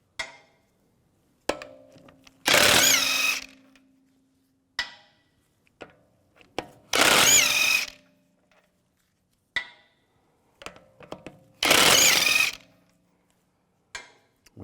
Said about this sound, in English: Now take the wheel off, use a 17mm socket. Take these lug bolts off.